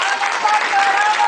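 A dense, steady burst of audience applause welcoming a singer onto the stage, loud and even throughout, with no gaps.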